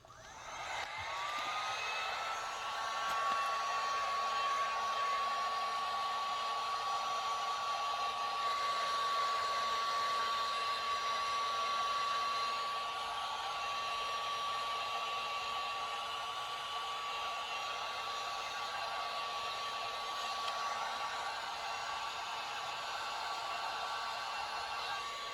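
A heat gun blows steadily over an epoxy swirl tumbler, a constant whooshing hiss with a steady whining tone that runs unbroken for the whole stretch, no talking.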